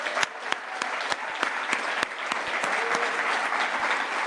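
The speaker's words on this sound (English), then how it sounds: "So I think they also deserve a really big round of applause." Indoor audience at a summit event applauds for the event team, a full round of clapping with sharp individual claps standing out over the dense wash, steady and fairly loud for several seconds.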